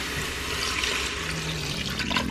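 A cup of water poured into an Instant Pot, a close, continuous splashing trickle of liquid running into the metal pot for a couple of seconds.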